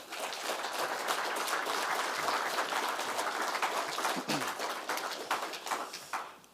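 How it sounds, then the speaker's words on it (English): An audience at an all-candidates meeting in the Listowel Agricultural Hall claps for the candidates, a sustained, fairly distant patter of many hands that thins toward the end. "Let's give these guys a big round of applause."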